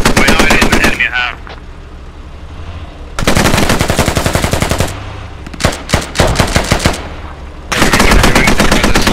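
Heavy .50-cal machine gun fire in the tactical shooter Squad, loud rapid bursts repeating across the stretch with short gaps between long strings of shots.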